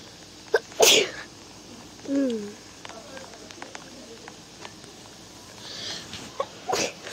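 A single sharp sneeze near the start of a Roblox murder mystery game session, followed by quieter game sounds and brief chirpy tones, with a second short burst near the end.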